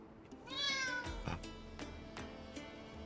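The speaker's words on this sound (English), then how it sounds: "He is a loud cat, isn't he?" A cat in the video game Pompeii: The Legacy gives one loud, drawn-out meow, clear and close, followed by quieter clicks and faint background sounds.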